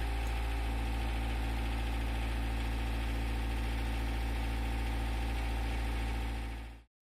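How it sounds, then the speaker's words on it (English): A narrowboat diesel engine runs steadily with a deep, throbbing low rumble and mechanical clatter, loud and close, then abruptly stops near the end. "I think the engine's working"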